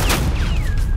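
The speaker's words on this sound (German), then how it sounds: "Suppressing fire." Gunfire from Batman: The Enemy Within, a dense burst of loud shots with a low booming rumble throughout, while descending whistling tones sweep past overhead.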